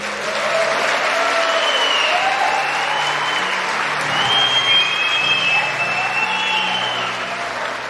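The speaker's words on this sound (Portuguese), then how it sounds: "aplaudam esses homens aí por gentileza" Church congregation applauding a group of men during a service, a loud, dense, sustained wave of clapping filling the room, with cheering voices and whoops rising over it.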